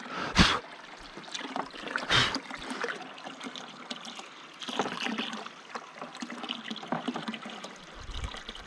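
Water trickling and splashing from a 1/3 hp Little Giant submersible pump into a 32-gallon trash can, a slow, steady low flow with a few louder splashes and clunks near the start.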